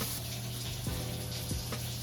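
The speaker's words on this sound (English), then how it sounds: "Okay, you will turn off the water." A kitchen tap runs steadily into a sink with a continuous splashing rush, close and fairly loud, with a few small clinks during a baking session.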